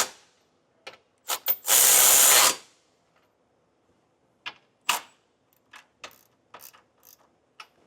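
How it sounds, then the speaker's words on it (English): A ratchet with a 19 mm socket snugs down bolts on a Class III trailer hitch on a 2023 Kia Sorento. It gives close clicking ticks and one fast, loud ratcheting spin, followed by scattered short clicks. "we can snug it all down with that same 19mm socket"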